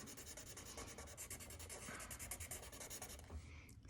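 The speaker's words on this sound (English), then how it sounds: "And it's so quiet you can really hear it scratching on the paper." A Sharpie marker scratches across paper while drawing a cow, a quiet, close, steady rubbing with quick repeated strokes and no talk.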